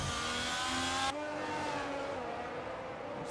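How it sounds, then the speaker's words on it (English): A Ferrari engine screams at high revs in the F1 2022 racing game, loud and steady, then drops in pitch on an abrupt downshift and climbs again through the gears as the car runs the Brazil circuit. "get our earbuds bursted by the sound of the lovely Ferrari engine"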